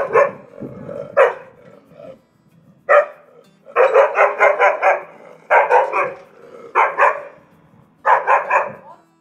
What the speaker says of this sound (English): Angry dog barking sound effect.